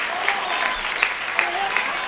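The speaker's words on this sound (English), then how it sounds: "Garrison's fans are certainly at volume here tonight" Baseball fans at a Garrison state B game applaud and cheer in a steady, moderately distant wash of clapping, punctuated by a few sharp claps and faint shouts.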